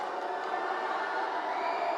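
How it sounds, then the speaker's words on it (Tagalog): A crowd at an NCAA women's volleyball match between Perpetual and LPU makes a dense, continuous roar that holds steady without distinct peaks, heard from within a large arena. "Intense crowd."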